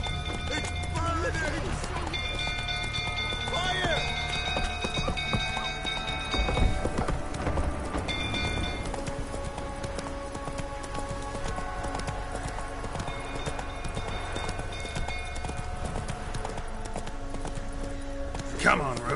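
Roach, Geralt's horse in The Witcher 3, gallops with rapid rhythmic hoofbeats throughout, under game music, shouting and speech.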